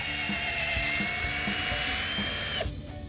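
A drill boring steadily into the trunk of a Huang Hua Li rosewood tree in an oil-palm plantation to test for heartwood, a loud continuous high whine with a rhythmic pulsing beneath, cutting off near the end.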